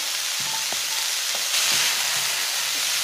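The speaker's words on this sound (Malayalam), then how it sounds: "ഇത് നന്നായിട്ടൊന്ന് വഴറ്റാം. 1-2 മിനിറ്റ് ഒന്ന് വഴറ്റാം." Tomato and drumstick pieces sauté in an oily pan for a Kerala-style fishless curry, giving a steady, close sizzling hiss with a few soft scrapes and taps of a stirring spoon, and no talking.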